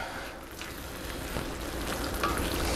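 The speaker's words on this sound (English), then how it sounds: "we're going to give this some more stir" Macaroni and cheese sauce stirred in a pot with a constant, dense bubbling hiss and soft scraping, close and fairly quiet, with no voices.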